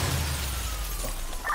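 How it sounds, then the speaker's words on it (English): A brief crunching, shattering car crash in the video game Watch Dogs, with a noisy, crashing texture, fairly loud and close. "Well, someone just crashed."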